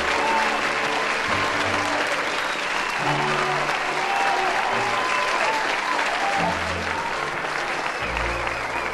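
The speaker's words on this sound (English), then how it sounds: "Let's have a round of applause for the 2020 Frisco High School Homecoming Court." Sustained applause from a crowd at a Frisco High School homecoming pep rally after the 2020 Homecoming Court is announced, steady and dense throughout, with faint voices mixed in.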